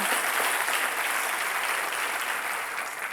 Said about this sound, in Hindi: तालियों के साथ इनका अभिनंदन करते हैं।